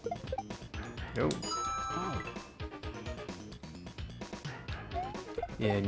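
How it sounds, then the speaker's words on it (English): Computer notification chimes sounding in the background of a workday, several bright dings scattered among game music and effects, with a person talking over them. "you might hear a lot of notifications going on in the background"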